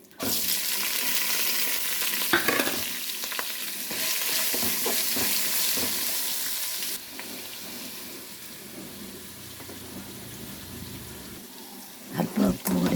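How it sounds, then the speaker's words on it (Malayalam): Chopped onions stirred and sautéed in a hot pan, giving a steady sizzle with scraping stir strokes, loud at first and then softer, with a few sharper clatters near the end. "ഈ സമയം നമുക്ക് ചെറുതായി അരിഞ്ഞു വെച്ചിരിക്കുന്ന സവാള ചേർത്ത് കൊടുക്കാം"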